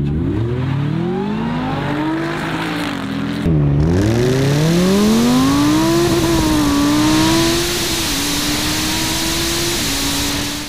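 A Lamborghini engine revs loudly on its own, its pitch sweeping up and down through several rising pulls before settling into a steady high drone.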